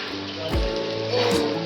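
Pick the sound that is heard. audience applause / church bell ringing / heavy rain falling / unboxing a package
heavy rain falling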